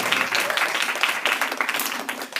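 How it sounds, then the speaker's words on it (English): Sustained audience applause, many hands clapping steadily at moderate volume with a slight fade toward the end. "Give her an extended round of applause"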